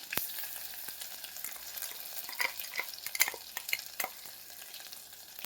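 Masala paste sizzles and spits in hot oil in a pan over a low gas flame, with steady frying crackle, sharp pops and stirring scrapes close up.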